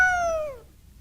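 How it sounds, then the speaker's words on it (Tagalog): A single short cat meow, clear and close, falling in pitch before fading into quiet. "Pusa naman pala."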